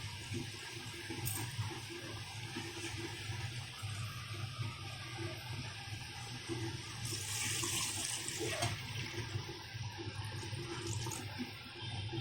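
Water pours into a pan of softened tomatoes for upma, making a steady rushing splash that swells toward the end, near and fairly quiet, with no voices.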